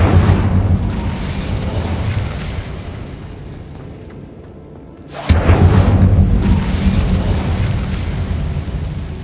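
A Confringo explosive spell goes off in the Hogwarts Legacy video game as a loud, booming blast. Rumbling fills the whole stretch, dips for a moment, then surges again with a second heavy burst that trails into a lingering roar.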